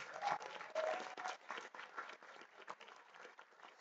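An audience at a music festival on a campus applauds a judge, with soft, distant, uneven clapping rising and falling for a few seconds, faint and without speech.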